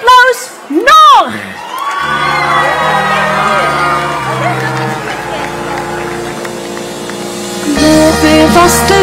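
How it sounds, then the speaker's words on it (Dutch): Crowd cheering, whoops and children's shouts at a carnival song festival for kids, loud at first, then blending under steady band music that carries on through the rest. "Dames en heren, geef er een groot applaus."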